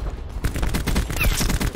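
Rapid automatic gunfire in a Call of Duty Black Ops 4 Safeguard match, a dense burst of loud shots rattling close and continuously for under two seconds.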